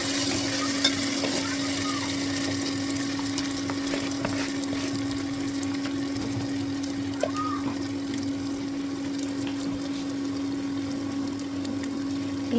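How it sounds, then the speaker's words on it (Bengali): Spice paste fries in oil for a chicken curry while being stirred, giving a steady low sizzle with occasional scraping clinks over a constant hum, and a voice talks faintly underneath. "ভেতরে পেস্ট করে রাখা মশলাটা দিয়ে ভাজতে থাকলাম"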